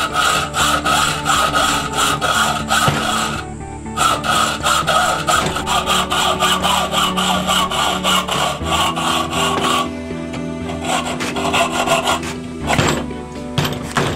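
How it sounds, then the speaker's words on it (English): A hacksaw cuts through metal bolts in a steady back-and-forth rasping rhythm, loud and close, with a few short pauses between runs of strokes. "So when you're cutting through the bolts"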